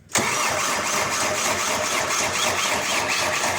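A Case machine's diesel engine cranks and catches after a brief quiet moment, then runs steadily and loudly at a fast idle close by for the rest of the moment.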